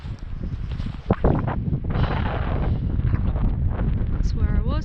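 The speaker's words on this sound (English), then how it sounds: "I'm still getting a bit of the breeze now" Wind gusting across a microphone high on a winter hill near Coniston in the Lake District, a steady loud roar and buffeting that swells and rumbles throughout, with a few brief sharper blasts.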